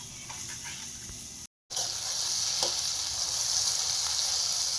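Brinjal sautéing in a pan, a continuous close bright sizzle with faint stirring scrapes, interrupted by a short silent gap early on before the frying continues steadily.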